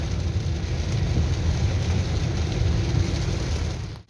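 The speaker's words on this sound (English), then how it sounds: "today it has been raining since 2 o'clock." Rain pours steadily in Pattaya during a February afternoon, a loud, even hiss of heavy rainfall that holds without pause and ends in a short clunk, with no talk.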